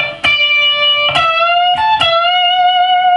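Electric guitar lick, played alone with four picked notes that bend up and sustain, ringing clean and close with steady, fairly loud tone and no talking.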